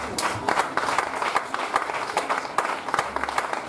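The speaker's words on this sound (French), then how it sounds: "On acclame la parole de Dieu." Church congregation applauding, a burst of mixed hand clapping in a reverberant hall, brief and moderately loud.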